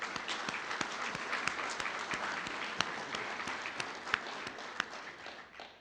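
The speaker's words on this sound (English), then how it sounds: "If we could get a big round of applause for them." An audience breaks into a round of applause at an economic forum, with dense, steady clapping that fills the room and a few sharper individual claps standing out above it.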